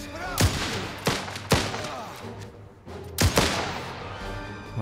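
Gunfire from the video game Last Train Home, four or five loud separate shots, each with a ringing tail, spaced irregularly over a background of battle noise.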